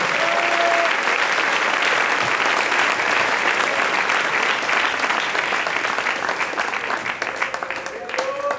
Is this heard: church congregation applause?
yes